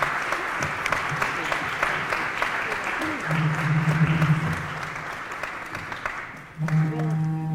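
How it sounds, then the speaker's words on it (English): Sustained applause from a room of people at a candidate forum, steady clapping that swells slightly, with a voice briefly speaking over it near the end. "give the candidates a round of applause as they exit"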